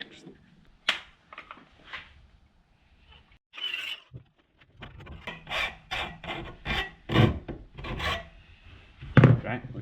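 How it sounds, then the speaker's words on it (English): A small tab is cut off a part during an upgrade of a TugBuggy, heard as close, uneven rasping and scraping strokes in short bursts with brief pauses between them. "this little tab right here needs to be cut off because it's not gonna fit inside here"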